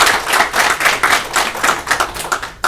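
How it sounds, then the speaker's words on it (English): Applause breaks out from a town hall audience after the first panel, many hands clapping in a dense, lively patter that holds steady for a few seconds before stopping abruptly. "can we have a round of applause for our first panel?"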